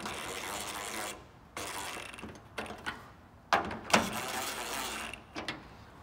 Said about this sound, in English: bolt it down